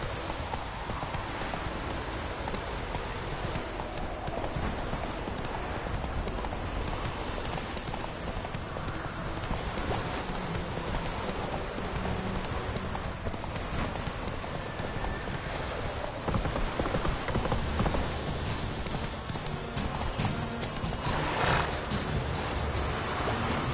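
Steady hoofbeats of Roach, a horse in The Witcher 3: Wild Hunt, clip-clopping continuously at a moderate pace over a dense outdoor ambience, with a brief whinny-like sound near the end.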